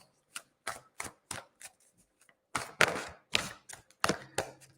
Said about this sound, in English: Just giving the cards a good shuffle for you, Julia